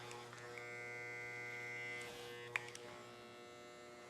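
Electric hair clippers buzz quietly and steadily while tapering a men's short haircut at the sideburns, with a couple of small clicks partway through and no talking.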